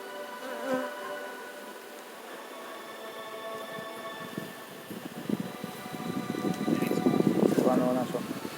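A bee swarm in Jamaica hums steadily throughout, with the buzzing growing denser and louder toward the end, while faint background noise sits underneath.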